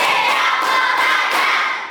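Loud hand clapping from an elementary school class, dense and steady across the moment, with no voices over it.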